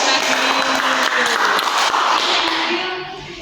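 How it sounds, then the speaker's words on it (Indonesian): A crowd claps in sustained applause, loud and close, holding steady before tapering off at the end. "Beri tepuk tangan dulu buat Bazia yang sudah"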